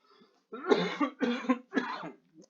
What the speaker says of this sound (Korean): 오랜만에 강의를 했더니 진짜 기침이 장난 아니네